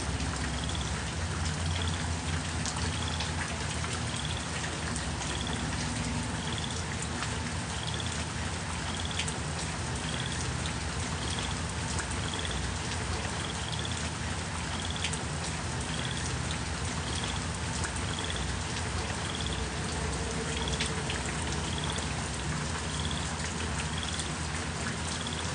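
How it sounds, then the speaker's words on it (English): Steady rain falls during flooding in Texas, a dense continuous patter of drops on surfaces that holds at an even level throughout, with faint regular chirps of frogs repeating in the background. "with all this rain that we have been having"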